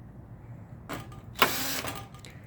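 A power screwdriver drives screws into a Toshiba fax board in short whirring bursts, with a brief buzz followed by a longer, louder one over a quiet room hum.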